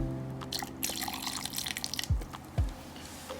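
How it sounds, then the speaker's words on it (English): Water poured into a blender with milk and avocado for a milkshake, a trickling splash with a couple of low gurgling plops near the end, close and fairly clear. "I'm also going to add some water so that our milkshake is not too thick."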